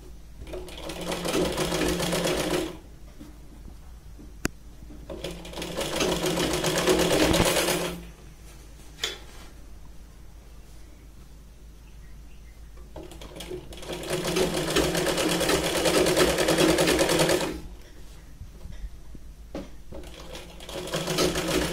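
A sewing machine runs in bursts while stitching the sleeve onto a Punjabi dress, a steady close mechanical whirr that starts and stops several times with short quiet pauses between the runs.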